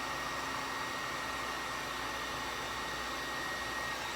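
A heat gun blows steadily over foam while texturing a faux cinder block for a haunted house wall, giving an even, airy hiss and whir from start to finish, close and unbroken, with no talking.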